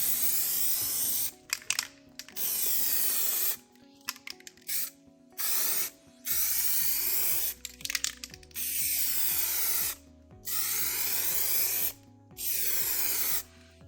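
Bursts of aerosol spray coat a capacitor on an air conditioner circuit board, about seven hissing blasts of roughly a second each separated by short pauses, close and clear, with faint clicks and handling noises between them.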